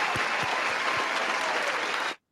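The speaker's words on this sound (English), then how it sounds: "This is the applause for Granite Xhaka." Applause for footballer Granit Xhaka at a Premier League stadium on the final day of the season, a dense, steady roar of clapping from a large crowd that runs unbroken for about two seconds and then stops abruptly.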